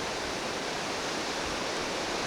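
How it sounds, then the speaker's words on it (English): A mountain stream in Glacier Park rushes in a dense, steady roar of flowing water, constant and fairly loud for the whole stretch with no voices over it. "There's a lot of water coming down through there."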